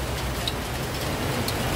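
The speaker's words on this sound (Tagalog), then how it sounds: "napakalakas ng ulan" Heavy rain pouring during a thunderstorm in Taipei, a dense, steady hiss of downpour close by with no voices.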